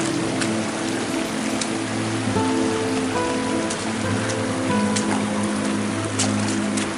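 Feet wading through extremely shallow creek water on an outdoor nature walk, giving a steady close splashing and trickling wash with faint tonal hum underneath, no talking.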